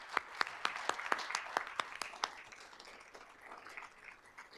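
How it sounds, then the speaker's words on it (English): Audience applause at a university outreach and engagement awards ceremony, a burst of sharp claps in a room that thins out and fades over a few seconds. "So I think that deserves a round of applause."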